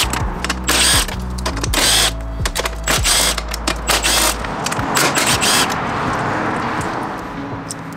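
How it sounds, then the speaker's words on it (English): A ratchet loosens 10mm bolts on a 2022 Subaru WRX during a front lip install, with loud, close, rapid clicking in repeated bursts that fade toward the end. "The first step is going to be to take out these 6 10mm bolts."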